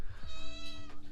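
A cat meows once, close and clear, a drawn-out tonal call lasting about a second in an indoor room where heavy lifting training goes on.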